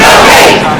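A crowd of protesters gathered outside at an airport, a loud, dense roar of many voices shouting together, continuous and close for under a second.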